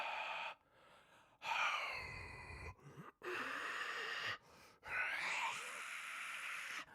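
A voice practices breathy exhaled screams using only the breath, producing several airy, strained rasping exhales separated by short silences. The sounds are quiet and close.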